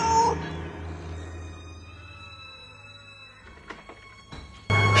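Stray cats meowing and caterwauling in Batman Returns, a few drawn-out cries at moderate distance over low rumbling ambience, ending in a sudden loud thump.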